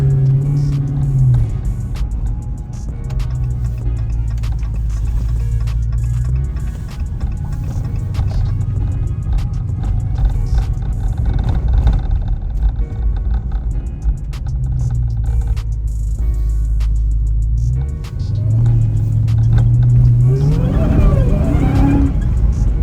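Dodge Magnum Hellcat driving with a heavy engine rumble throughout, the revs climbing and dropping in pulls with one sharp surge near the end, loud and close from inside the car.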